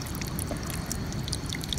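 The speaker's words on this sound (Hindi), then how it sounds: "आजकल देखो पहाड़ों से हर जगह से बिल्कुल साफ पानी बह रहा है" Clean mountain water trickles and splashes down over rocks in a forest, a faint, continuous watery patter with small scattered droplet splashes, steady and close, with no voices.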